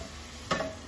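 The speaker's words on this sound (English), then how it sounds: "We're gonna come over here and flip our meat now." Meat flipped onto a hot pan gives a single short burst of searing sizzle midway, quickly settling back to a faint background hiss.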